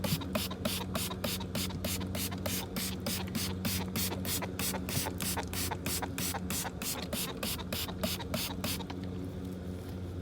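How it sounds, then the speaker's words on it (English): A handheld spray bottle squirts rapidly and repeatedly at tomato plants in a garden, a steady run of about two dozen close, crisp sprays before stopping. "And spray, spray, spray."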